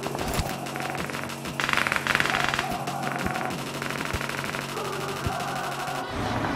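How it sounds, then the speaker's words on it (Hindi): Rapid automatic gunfire in BGMI mobile battle-royale gameplay, repeated rattling bursts with sharp single shots in between, fairly loud and continuous throughout. "राइट साइड में काफी देर से फायरिंग चल रही थी"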